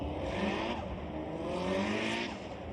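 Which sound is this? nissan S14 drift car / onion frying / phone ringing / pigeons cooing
nissan S14 drift car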